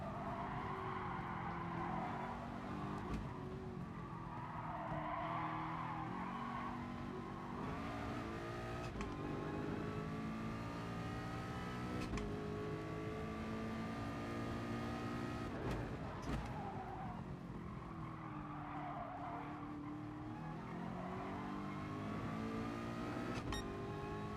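A Porsche race car lapping in Gran Turismo Sport, its engine note climbing and falling through gear changes with steady revving, downshifts and faint tire squeal, loud and continuous with no talk.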